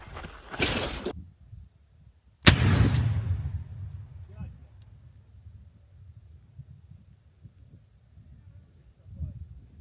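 An RGD hand grenade detonates at a test range: a sharp, loud blast followed by a rumbling decay and quieter outdoor noise, preceded by an earlier short burst of sound.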